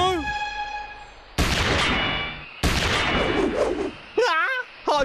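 Two loud cartoon gunshot blasts, each with a long noisy ringing tail, follow a sustained tone; a short warbling cry comes after.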